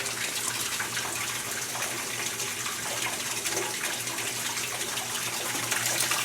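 Water pouring into a washing machine tub at the start of a rinse, a continuous even gushing rush with a bright hiss, moderately loud and steady from start to finish without speech.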